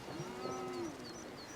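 One cow lowing at a distance during a cattle drive in the Scottish Highlands, a single drawn-out moo of about a second, faint over outdoor ambience with no talking.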